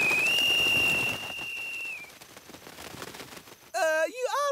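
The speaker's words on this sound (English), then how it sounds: "You ought to blow the whistle more softly, Joe, just like Miss Betty said." Whistle blown in a cartoon at school, a long steady shrill tone at the start that fades out after about two seconds, followed later by warbling whistle-like wavering tones over background noise.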